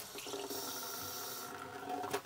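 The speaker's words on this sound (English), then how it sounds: "One last test just to see how waterproof this is to actually fill it with water" Water is poured into fabric treated with linseed oil to fill it, a faint, steady splashing and trickling that continues for a couple of seconds, with no speech.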